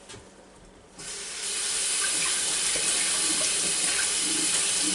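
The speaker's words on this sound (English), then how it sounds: "now I'm going to start running some water over them." Tap water gushes from a faucet over dried black beans in a strainer, starting abruptly after a second of quiet and building into a steady, close rushing hiss.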